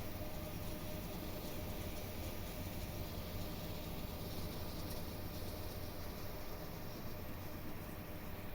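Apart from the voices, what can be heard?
Union Pacific train number 5135 passing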